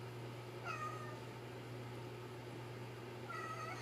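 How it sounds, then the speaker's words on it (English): Two short meows from a cat at night, one near the start and one near the end, fairly faint over a steady low hum, with no talking. "Do y'all hear this cat?"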